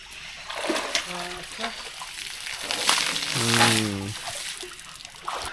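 A lady elephant is bathed in Thekkady, Kerala, with water splashing and splattering in bursts while a person talks over much of it.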